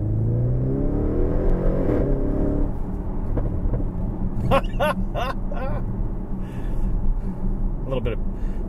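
Sharp crackling pops from a 2016 Audi RS7 exhaust burst out in a quick cluster during gear changes over the revving engine's steady drone, with another pair of pops shortly after.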